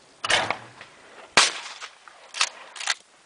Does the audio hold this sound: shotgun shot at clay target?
yes